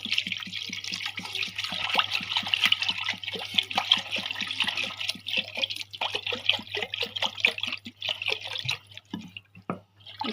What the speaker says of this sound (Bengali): এটার সাথে এখন পানি মিক্স করে দিই